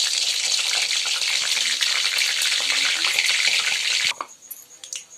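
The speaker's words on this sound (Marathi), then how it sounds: "आता झालेलं आहे आपलं जिरं फ्राय" Cumin seeds frying in hot oil make a dense, loud, close hiss for about four seconds, then the sizzle cuts off abruptly, leaving a few faint clinks and knocks.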